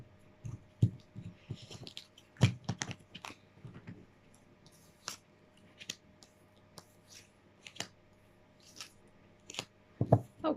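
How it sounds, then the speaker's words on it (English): Tarot cards being cut and handled: scattered soft snaps, slides and clicks of card stock at close range, irregular and fairly quiet with pauses between movements. "Now, I'll cut the deck."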